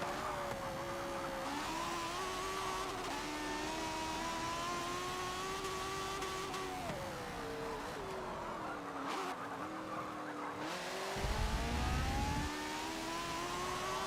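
Race car engine in Forza Motorsport 7 S-class online racing, a sustained rising and falling engine whine that is loud and close, with gear-change dips, tire skids and a brief low rumble near the end, no talk.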